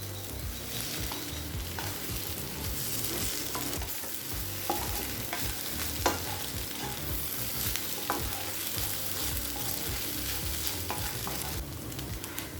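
Egg kothu parotta is stirred and fried on a pan, with a steady sizzle of oil and repeated scraping and tapping of the utensil against the metal, close and continuous with no talk.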